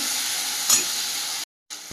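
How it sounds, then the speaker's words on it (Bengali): Spice masala with coriander and cumin powder fries in a pan, giving a loud, steady, close sizzling hiss with a brief stirring scrape partway through. The sound cuts out for a moment near the end, then resumes. "পরিমাণ মতো ধনিয়া গুঁড়ো পরিমাণ মতো জিরে গুঁড়ো মশলাটাকে ভালোভাবে কষিয়ে নেব"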